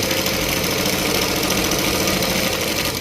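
A sewing machine runs continuously, stitching a straight seam on a salwar, its close mechanical whirr and rapid needle chatter holding steady before easing off at the end.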